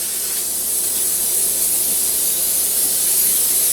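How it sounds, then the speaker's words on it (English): Cooking spray hisses steadily from an aerosol can into a small baking pan for a low-carb squash and cheese casserole, a close, continuous broadband spray lasting the whole moment without pause. "I almost forgot to spray my little pan."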